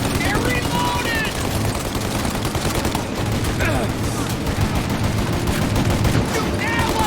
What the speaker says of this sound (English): Shoot out their guns when there's a break in the fire! They're reloaded!